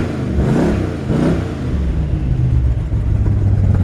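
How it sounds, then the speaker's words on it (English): A 1967 Chevrolet C10 pickup, still a little cold, is revved twice, its engine and exhaust swelling and falling back before settling into a loud, steady, rumbling idle close by. "Just revving it up so you can hear the exhaust."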